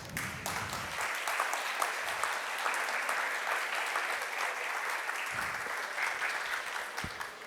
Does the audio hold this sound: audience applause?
yes